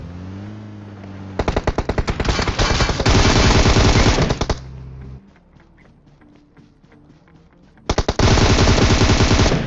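Automatic weapon fire in a shooter video game: two loud, sustained bursts of rapid shots separated by a quieter pause, close and dominant with no talking.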